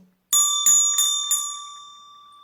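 A small bell rings four times in quick succession during a hypnosis session, bright metallic strikes that ring on and fade slowly after the last one, with no talk over them.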